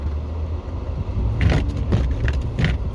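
A Jeep Gladiator pulls away hard on snow, a close low engine rumble that swells briefly, with short scuffing bursts from the tires breaking loose.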